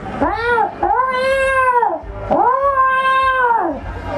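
A human voice imitates cats, giving several loud, drawn-out meows and yowls in a row, close and clear with no other talk.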